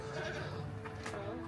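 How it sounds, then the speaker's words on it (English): Goats at a farm bleat amid a steady background hum, with a couple of short, wavering calls close by at low volume. "This is how we're greeted today. A bunch of goats."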